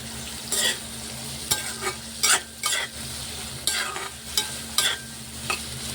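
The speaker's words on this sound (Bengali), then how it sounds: "প্রথমেই আমি বেশ খানিকটা পেঁয়াজকে বেরেস্তা বানিয়ে নিচ্ছি" Sliced onions fry slowly in oil over medium heat until crisp, a steady sizzle broken by repeated scraping stir strokes at uneven intervals, close and fairly loud.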